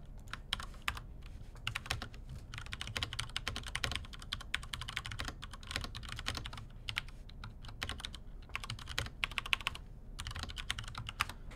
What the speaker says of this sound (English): How good does that keyboard sound